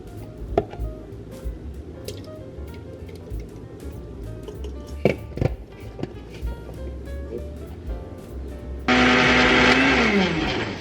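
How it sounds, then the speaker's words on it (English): Blender switches on near the end to froth a coffee drink, a loud steady whir following quieter kitchen taps and liquid sounds. "today I'm gonna put it in a blender"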